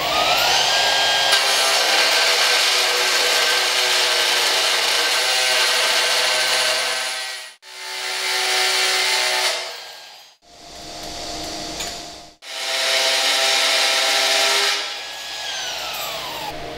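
An AGP HP1400 high-frequency beveling machine cuts a 45-degree bevel on a metal workpiece, giving a loud, sustained high-pitched grinding whine that stops briefly twice and spins back up.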